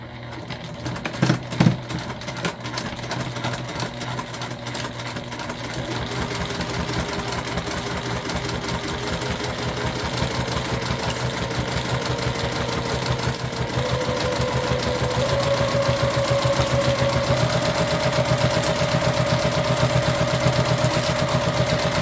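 A sewing machine runs steadily while stitching a waist pack, its motor whirring in a continuous fast hum that builds slightly in pitch and loudness, close and alone with no talk.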